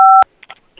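Telephone keypad buttons are pressed, giving a loud, clean dual-tone DTMF beep followed by a few faint clicks and soft taps.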